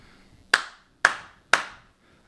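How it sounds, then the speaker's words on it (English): Three sharp hand claps sound close and loud at an even half-second spacing, each decaying quickly into a quiet room with no talking. "There's the clap."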